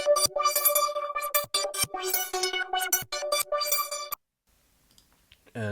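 The final synth melody layer of an FL Studio beat, run through EQ and Shaper Box, chops out a choppy, pumping pattern of bright stacked chords with sharp gated dropouts, then stops suddenly into near silence.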